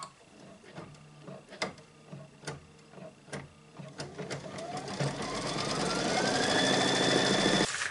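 An embroidery machine stitches a placement line for a Kimberbell mug rug: first a series of sharp, evenly spaced ticks, then a rising motorized whine that builds and holds steady toward the end.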